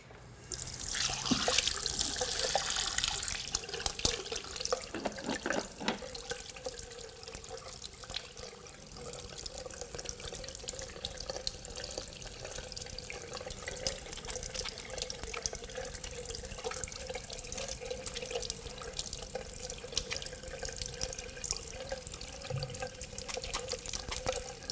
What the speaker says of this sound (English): they need to make sure that they wash their hands